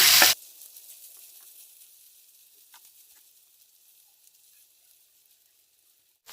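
Seasoned Maggi noodles meet hot white oil in a pan. A loud sizzle opens the sound, drops quickly to a quiet, steady frying hiss that slowly fades, and swells again briefly at the end.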